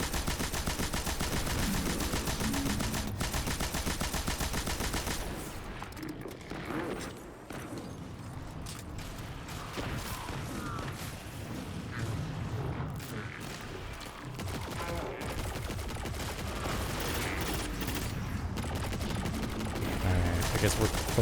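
Sustained machine gun fire in Destiny 2, The Edge of Fate: a dense, continuous rattle of rapid shots with a few heavier booms and crashes mixed in, running loud for the whole stretch.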